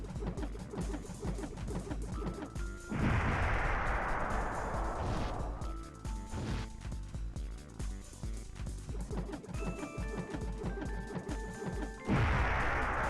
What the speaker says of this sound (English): The thing where Bomberman swings the bombs around and throws a bunch of them, it's cool,